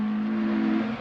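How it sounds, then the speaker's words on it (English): A rally car, Henri Toivonen's, approaches along a special stage of the 1981 Lombard RAC Rally. Its engine drones steadily, close and loud, holding a fairly even note through the brief moment. "but here he comes, Henri Toivonen"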